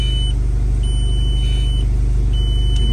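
A Volkswagen Golf project car's engine runs at a steady, throbbing idle, a low continuous rumble with a faint high beeping tone that comes and goes over it.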